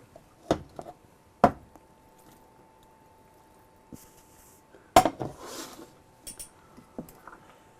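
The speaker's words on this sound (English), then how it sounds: "I'm going to stir that around." A spoon stirs creamy garlic chicken pasta sauce in a pan, giving a few sharp metallic clanks against the pan and soft scraping between them, with no voices.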